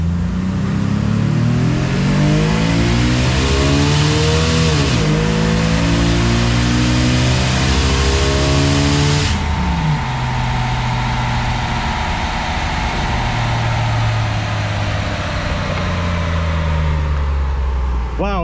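Jeep Wrangler 4.0 with a cold air intake on a dyno: a loud engine climbing in pitch through repeated rising runs and gear changes, then a sustained high roar, close and continuous with no speech over it.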